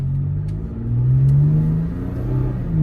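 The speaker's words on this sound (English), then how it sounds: "It's pretty peppy for a 6-cylinder." A 2019 Toyota Tacoma TRD Pro pickup with a six-cylinder engine accelerates, its mid-pitched engine note climbing and droning steadily from inside the cab with no talking.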